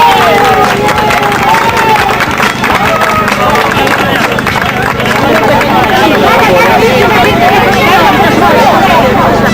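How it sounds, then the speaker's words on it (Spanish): A crowd applauds and cheers for children at a charity race for Parkinson's in Valencia, a dense, continuous roar of clapping mixed with loud chatter and voices throughout. "¡Un aplauso para ellos!"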